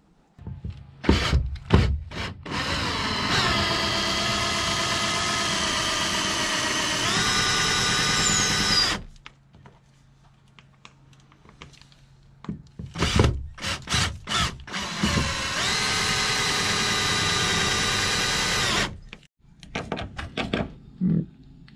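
A power drill drives bolts into a roof truss on a full-height teardrop camper, whining loudly in two long sustained bursts with short clicks and knocks between them and a quiet gap in the middle.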